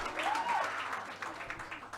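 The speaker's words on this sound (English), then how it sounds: "Oh, come on, that deserves a round of applause." Audience applause during a business chat with a company CEO, a steady mid-level wash of clapping filling the whole stretch, with a faint voice briefly audible over it.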